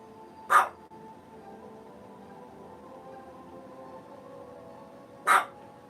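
Two short, sharp dog barks, about five seconds apart, come from nearby over a quiet indoor background hum.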